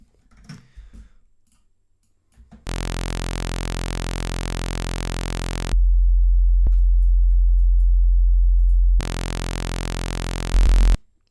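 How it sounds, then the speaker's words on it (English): Steady synthesizer tones switch back and forth: a bright, buzzy saw wave, then a pure low sine wave, then the saw wave again, each held for several seconds after a few soft clicks. "So if we look at the sine wave first, we've got just the one harmonic there, and then a saw wave is actually built up from"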